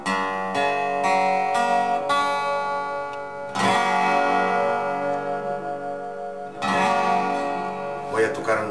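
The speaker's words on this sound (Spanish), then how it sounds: "tenemos el dobro afinado en sol abierto" A Harley Benton dobro in open G tuning: slide notes ring out in bright, sustained chords with metallic overtones, plucked phrases followed by long resonant strums, played alone and close.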